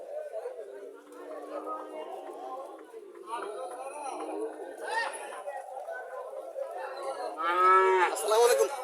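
A native dairy cow moos several times at a Comilla cattle market, with drawn-out calls rising near the end over steady crowd chatter and people talking nearby.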